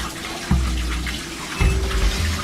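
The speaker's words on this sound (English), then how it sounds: "I hear water, so this doesn't sound good." Steady rushing water flows through flooded tunnels, loud and continuous, with low thumps and splashes rising out of the wash.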